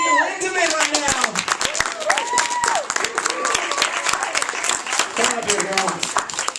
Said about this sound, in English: I want you guys to clap your hands. Make some noise for Maggie Lindemann right now.